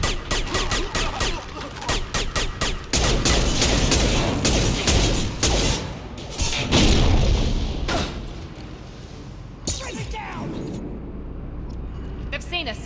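Gunfire in a Mass Effect 2 firefight, rapid bursts of automatic weapon shots and heavy booms, loud and dense for several seconds, then thinning to sporadic shots, with voices speaking over the fighting.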